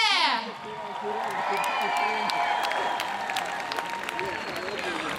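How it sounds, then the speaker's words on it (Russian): Audience applause and scattered cheers for a performing group at the Ogni Vostoka festival awards, steady clapping under a presenter's voice at the start and a lingering tone. "Ваши аплодисменты Дель Арте!"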